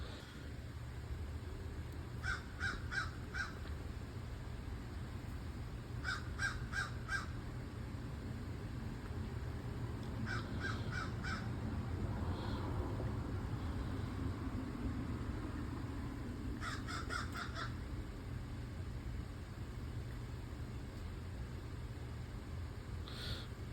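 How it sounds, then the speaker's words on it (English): Outdoors, a big bird lets out repeated loud caws in bursts of three or four, spaced a few seconds apart over a steady low hum of distant traffic or an engine. "that big bird started sounding off and got me confused"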